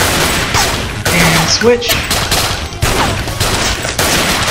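Rapid continuous gunfire bursts in the Thing Thing Arena flash video game, dense loud popping with brief electronic effects, under a player's spoken word.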